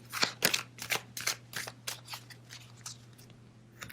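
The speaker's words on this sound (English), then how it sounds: "I will do a quick shuffle" A quick riffle shuffle of a deck of playing cards, heard as a run of sharp, close papery bursts that slow and fade over a few seconds above a steady low hum.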